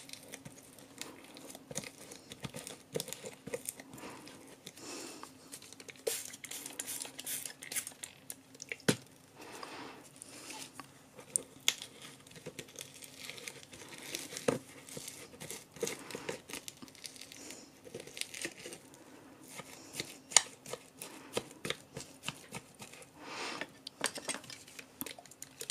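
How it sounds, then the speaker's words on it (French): Structure paste being chopped with a tool to work water into it, a long stretch of irregular faint scraping, tapping and squishing close up. "On essaye de hacher un peu sa pâte pour que l'eau rentre dedans."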